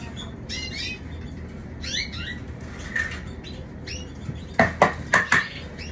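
Canaries chirp and tweet in short scattered bursts while being fed egg food early in the day, and a quick run of louder sharp calls follows near the end.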